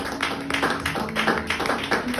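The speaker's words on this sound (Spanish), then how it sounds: "Dale un aplauso al Señor" Congregation at a church service clapping in a steady rhythmic beat, fairly loud and close, with an organ or keyboard tone sustained underneath.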